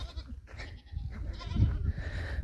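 Goats on a village farm in hot weather give several short, fairly faint bleats at close range against quiet rural background noise.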